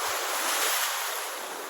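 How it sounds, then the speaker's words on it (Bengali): Big sea waves breaking on the Italian coast make a steady, loud, unbroken roar of surf mixed with wind, with no voices over it. "কি দেখেন কি বড় বড় ঢেউ, কি বিশাল ঢেউ।"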